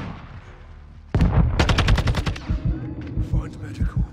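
Shotgun fire in Modern Warfare 2 on the Shipment map: after a quiet lead-in, a sudden loud burst of rapid close shots, then scattered further blasts and clatter.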